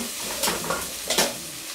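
Onions frying over a very low flame, turned in a pan with a few scraping stirs that rise from a steady soft sizzle; close and fairly quiet, no talking.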